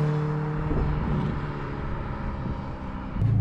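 A Ferrari Roma with a manual gearbox drives along a desert road in Dubai, its engine a steady low drone with rushing road and wind noise, heard from inside the car without talk.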